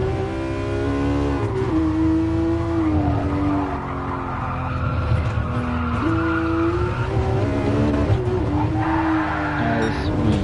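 A Porsche slides around Laguna Seca in Gran Turismo Sport, its tires squealing in long wavering tones over a steady engine drone, loud and close throughout the ten seconds.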